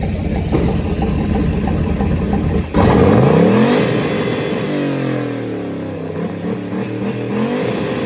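An LS-swapped Malibu engine idles, then revs up sharply, rising in pitch before settling back into a steady, loud running hum.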